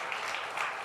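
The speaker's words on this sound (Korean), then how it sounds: "소개도 박수 한번 할까요?" Audience applause at a New Year special prayer service in a church, a short steady wash of many hands clapping together at moderate distance, with no voices rising above it.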